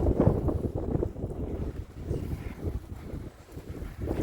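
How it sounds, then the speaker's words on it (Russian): Gusty wind roars steadily across an open field where pigeons are being flown, with rough low buffeting rising and falling throughout and no voices. "Ветер. Порывистый."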